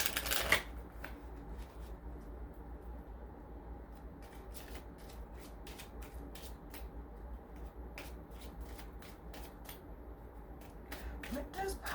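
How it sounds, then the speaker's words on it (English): Oracle and tarot cards are shuffled steadily by hand, a long series of crisp, close clicking riffles in quick rhythm over a quiet indoor background. "I've already pre-shuffled the cards, but I'll continue to shuffle as we go on."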